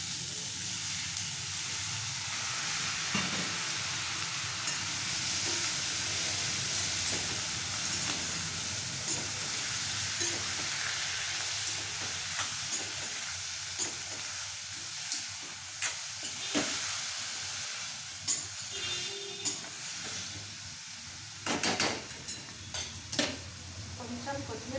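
Quarter kilo of broad beans frying in a pan, a steady dense sizzle and hiss running throughout with scattered clinks and scraping stir sounds growing sharper toward the end.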